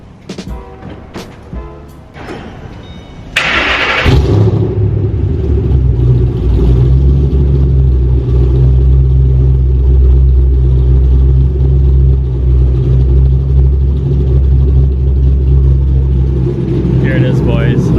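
A car fitted with a Pypes H-pipe and Borla exhaust fires up inside an echoing garage after some talk, then settles into a loud, deep, steady exhaust rumble close by.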